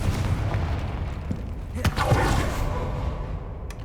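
Fire spell explosions in the game Hogwarts Legacy come as loud booming blasts with crackling bursts over a dense rumbling game soundscape. A sharp hit lands near the middle.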